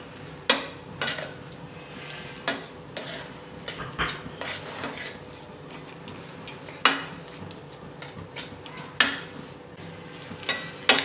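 A spoon stirs a mixture of coconut and cream in a metal pan, scraping and clinking against the pan in irregular strokes with sharp knocks every second or two, no talking.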